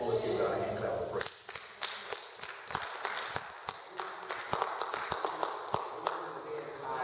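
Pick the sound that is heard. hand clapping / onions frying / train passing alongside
hand clapping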